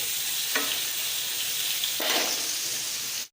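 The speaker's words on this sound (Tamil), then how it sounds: "வெங்காயம் நல்லா வதங்கிடுச்சு" Onions sautéing in oil in a pan over a low flame for dried anchovy fry, a steady close sizzle broken by two brief stirring scrapes, with no talking.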